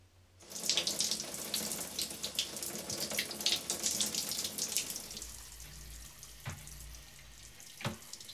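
A tap runs steadily into a basin, a bright continuous gush that stops partway through, followed by a few faint drips and small knocks in a quiet room.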